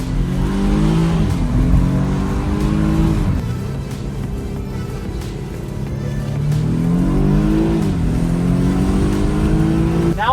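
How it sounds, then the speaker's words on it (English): A stock turbocharged BMW engine revs hard through rising gear pulls, pitch climbing then dropping between shifts, with a whooshing turbo spool-up as it accelerates loudly. "you can hear that turbo spool up"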